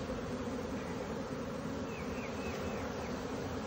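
Honey bees buzz in a dense, continuous, droning hum during a spring hive inspection as the colony grows agitated, loud and close throughout with no pauses.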